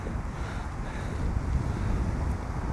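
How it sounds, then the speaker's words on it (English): Steady wind buffeting an outdoor microphone during lure fishing for bass, a continuous low rumbling roar with no other clear sounds. "We have got a lot of wind here, guys."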